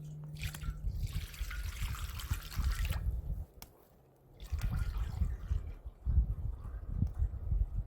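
Water pours into a pot for kimchi stew, a trickling, splashing stream that runs for a few seconds, pauses briefly, then resumes close by.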